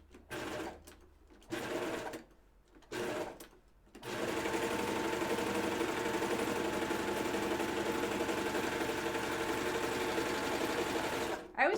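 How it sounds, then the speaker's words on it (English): Serger overlock machine stitching fabric pajama bottoms around a curve: a few short bursts with pauses, then a steady, loud continuous whir running close up for about eight seconds before stopping. "I'm just going to start with my serger foot on the fold here"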